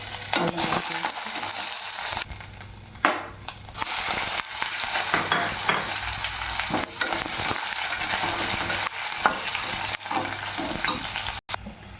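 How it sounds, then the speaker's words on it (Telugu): Cumin, mustard seeds, curry leaves and ginger garlic paste fry in hot oil for a moong dal and tomato curry, giving a steady, close sizzle with stirring scrapes throughout and no talking. "జీలకర్ర, ఆవాలు చిటపిటలు ఆడినాక కరివేపాకు, అల్లం వెల్లుల్లి పేస్ట్,"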